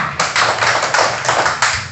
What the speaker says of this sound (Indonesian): Ayo tepuk tangan untuk kelompok 3.